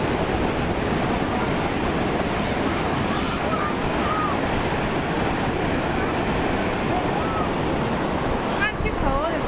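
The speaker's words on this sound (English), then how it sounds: "here we are at the beach" Ocean surf at Torrey Pines beach, a steady broad wash of breaking waves and wind noise throughout, with faint bird calls near the end and a voice briefly audible.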